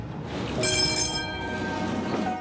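Tram rolling through Vinnytsia on a city morning, a loud continuous rumble of wheels with a bright metallic squeal rising partway through and lingering.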